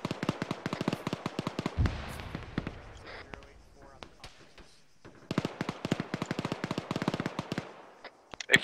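Rapid machine gun fire in an Arma 3 co-op battle, two long bursts of sharp repeated shots separated by a quieter stretch, with radio-style talk over the firing.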